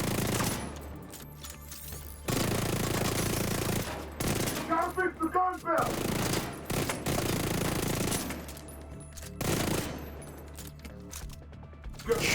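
Bursts of automatic gunfire in a video game, starting and stopping in several stretches with brief pauses between, close and moderately loud over game background sounds.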